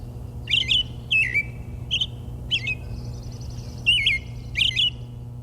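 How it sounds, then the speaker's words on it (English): An American robin sings clear, wavering whistled phrases in short bursts with brief pauses between them, over a steady low hum. "The robin sings in wavering whistles before pausing and singing again."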